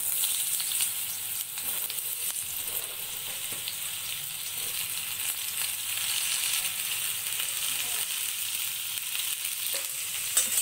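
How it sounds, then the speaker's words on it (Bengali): Ridge gourd fries lightly in mustard oil in a wok, giving a steady, close, bright sizzle that holds evenly throughout with no voices. "আমি ঝিঙেগুলিকে হালকা ভেজে তুলে নেব"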